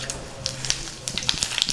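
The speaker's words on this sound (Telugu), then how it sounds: "నూనె వేడెక్కింది. ముందుగా పోపు దినుసులు వేసుకుందాం." Tempering spices sizzle and crackle in hot oil on a stove, making a soft, continuous hiss with scattered sharp pops.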